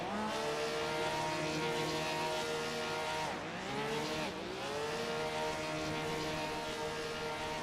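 Race car in a racing video game at Daytona doing celebratory burnouts and donuts after a win, engine revving high and steady with pitch dips and swoops as it spins round and round, tires squealing, no talk.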